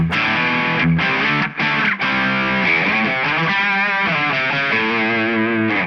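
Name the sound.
electric guitar with effects bypassed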